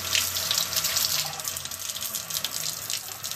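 Hot water running into a sink as a Scotch-Brite scouring pad is dipped in, a steady close hiss and splash throughout.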